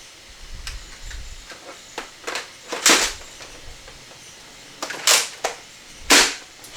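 A Nerf N-Series toy blaster fed from a boxed belt magazine fires several sharp, airy pops close up, one single shot and then a pair of shots, with handling clicks between them and no talking.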